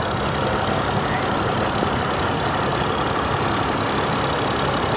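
A 1952 English-built Allis-Chalmers D272 tractor engine idles at an outdoor threshermen's show, a loud, dense, steady rumble with no pauses and no talk.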